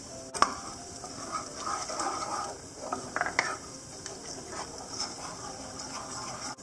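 A spoon scrapes and clinks around a pot while Pesaha milk thickened with rice flour is stirred, giving soft, irregular taps and swishes, close and fairly quiet.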